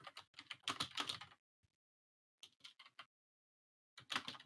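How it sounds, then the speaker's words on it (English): Rapid bursts of computer keyboard typing, close and fairly loud, come in three clusters separated by short silences. "I hear vicious typing."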